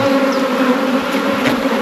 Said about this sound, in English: Fair volume of bees there though,